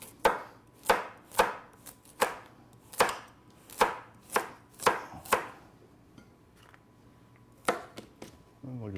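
Vegetables sliced down the large side of a grater for a sheet pan chicken dinner, making a run of about a dozen sharp, evenly spaced strokes, close and fairly loud, with a short pause near the end.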